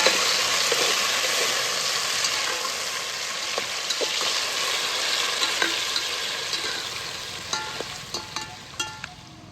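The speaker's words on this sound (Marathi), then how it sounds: "कांदा चांगला तळून घेतला." Onion frying in hot oil with whole spices (cinnamon, star anise, cloves, black pepper, asafoetida) for a mutton dish: a steady broadband sizzle throughout, with occasional sharp pops and crackles growing more frequent toward the end, close and continuous, no talking.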